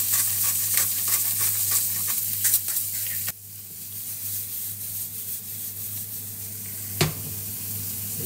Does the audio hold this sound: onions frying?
yes